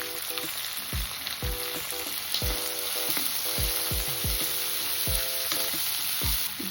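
Vegetable pulao frying in a pan as peas and coriander go in, a constant close sizzle broken by repeated spoon scrapes and taps, with no talking.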